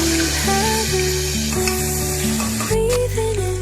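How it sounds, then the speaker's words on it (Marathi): Ginger garlic paste, green chilies and onion frying in a pan give a continuous close sizzle with light stirring, over a steady background hum that briefly drops out and returns. "आलं लसूणची पेस्ट टाकू मिरच्या टाकूया कांदा"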